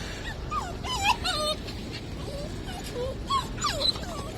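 A mother dog and her puppies whimper and yip in a string of high, wavering cries, close and fairly clear over faint outdoor background.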